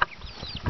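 Chickens in a chicken tractor being pushed into tall grass let out a short, close cluck, a brief burst on its own with no talk.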